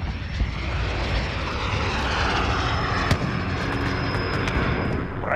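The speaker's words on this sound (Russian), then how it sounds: "Заколебал, блин, самолетик" In the Call of Duty Modern Warfare video game, an aircraft flies overhead with a steady, loud engine drone, broken by a sharp blast partway through and faint distant battle noise.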